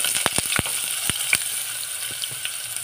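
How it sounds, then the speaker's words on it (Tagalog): Garlic and onion dropped into hot oil, frying with a steady bright sizzle punctuated by several sharp spattering pops early on, then settling to an even hiss. "Dahil mainit ng ating mantika guys, ilagay na natin ang ating bawang at saka sibuyas."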